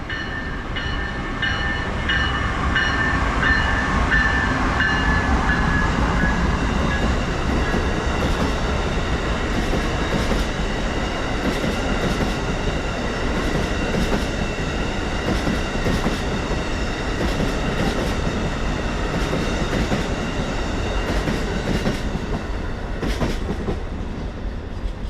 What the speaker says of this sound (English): A double-headed set of sequentially numbered ACS 64s leads Amtrak Regional Train 176